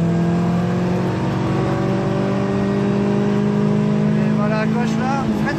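Caterham race car accelerating on the Croix-en-Ternois circuit, its engine a loud, sustained drone that climbs in pitch toward the end, heard from inside the car with a coach talking over it.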